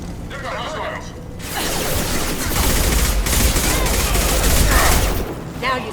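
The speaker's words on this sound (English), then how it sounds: "The Blue Suns and Vorcha are shooting anything that moves." Sustained gunfire on Omega in the video game Mass Effect, a loud, dense barrage of overlapping shots that builds and rolls on for several seconds, with voices heard in the mix.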